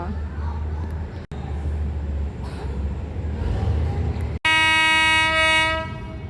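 A Thai passenger train with a generator car rolls past on an eastern line, a steady loud rumble throughout, broken briefly by two short gaps, then a long, loud two-tone horn blast near the end.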